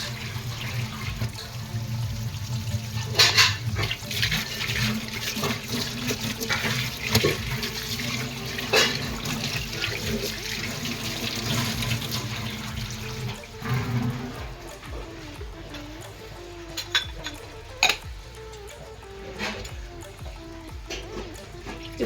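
A kitchen tap runs during washing up, a long steady gush of water into the sink with intermittent splashes and knocks of items, thinning toward a sparser trickle near the end.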